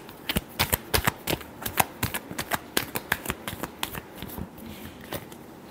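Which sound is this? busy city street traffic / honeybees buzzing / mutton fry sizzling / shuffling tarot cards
shuffling tarot cards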